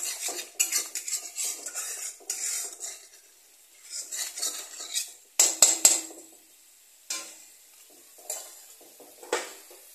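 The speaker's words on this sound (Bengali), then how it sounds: "সরষে আর পোস্তটাকে ভালো করে মিক্স করে নেব।" A spoon mixes mustard and poppy seed paste for a pumpkin stem and fish curry, giving close, clinking scrapes in irregular bursts separated by short quiet pauses, with no talking.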